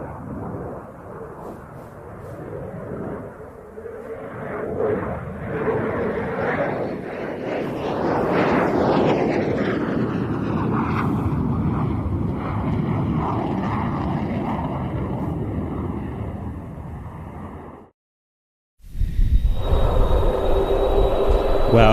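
A C-5 military transport aircraft departs at the Royal International Air Tattoo airshow, its jet roar building to a loud, broad rumble that slowly fades into the distance before the sound cuts out briefly.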